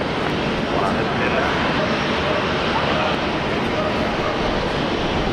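An Aussie airliner landing at Brisbane Airport on runway 19 left, its engines a loud, steady, broad roar that holds without a break.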